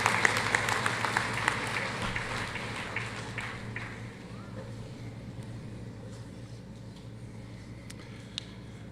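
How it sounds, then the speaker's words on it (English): Applause rises from the audience at a Roane State Community College Allied Health Sciences graduation ceremony, loud and dense at first, then thinning and fading over several seconds into the quieter hall. "Please give a round of applause to John, our Academic Achievement Award winn"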